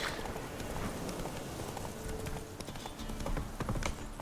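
Roach the horse's hooves clip-clop steadily on the ground in The Witcher 3, a fast running gait that stays close and loud for a few seconds with no voices over it.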